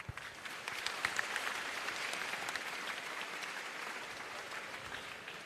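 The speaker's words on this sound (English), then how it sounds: "Let us clap." Applause from an audience at an opening ceremony of a vicennial celebration, a dense, even roar of many hands clapping that holds steady for several seconds, a few sharper claps near the start.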